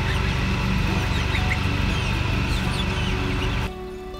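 Chickens clucking and squawking among ducks and a goose on a homestead, a busy barnyard chorus that continues steadily before dropping slightly quieter near the end.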